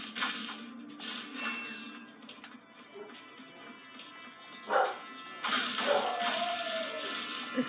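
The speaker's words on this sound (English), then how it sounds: "Excuse the barking in the background once more." A dog barks somewhere in the background, faint and intermittent, mixed under the sounds of the Ratchet & Clank remaster video game.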